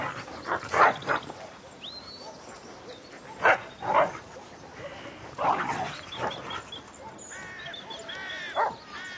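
A pet dog makes soft whimpers and short vocal bursts in a few separate spurts, close by, over a quiet outdoor background with faint bird calls.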